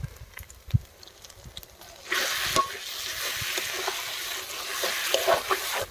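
Ground coriander, cumin and Kashmiri chilli powder with turmeric and salt fry over low heat in a pan for doi katla, giving a steady, close sizzle that starts suddenly partway through, along with faint stirring scrapes.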